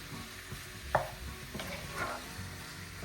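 Onions and cream cooking in a pan for lasagna, with a soft steady sizzle and scraping stirs of a spatula, quiet and close.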